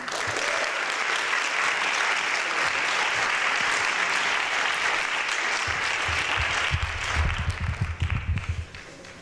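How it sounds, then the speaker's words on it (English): Audience applause at a speaking event, a full, continuous wash of clapping from a large crowd, loud and steady, with a voice speaking near the end as it tapers. "you've already done the applause"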